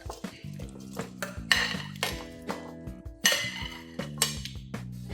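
Metal clinks and clatters of chopped tomato, drumstick, ash gourd, snake gourd and onion going into a cooking pot for Kerala varutharacha sambar, a series of sharp utensil knocks with ringing tones, no talking.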